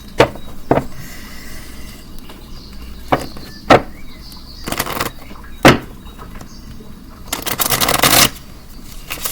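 Tarot cards shuffled and pulled for a reading, giving several sharp riffling bursts and flicks spread across the clip, with a longer shuffling run near the end, close and fairly loud with no talk.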